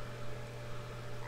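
Frog croaking in the video game Beyond Eyes, a steady low, continuous drone running through the whole moment at moderate level over a faint hum, with no talking.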